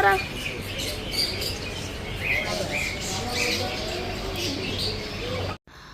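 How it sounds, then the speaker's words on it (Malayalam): Bright, high bird chirps come and go over a steady outdoor hiss, with a voice talking quietly in the background. "ഇവിടെയൊക്കെ നല്ല രസമാണ് കേട്ടോ നല്ല വെറൈറ്റി ആയിട്ടുള്ള കിളികളാണ് ഉള്ളത്"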